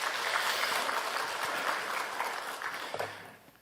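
Congregation in a Korean church Sunday service claps steadily in applause, a moderately loud, dense patter that fades toward the end.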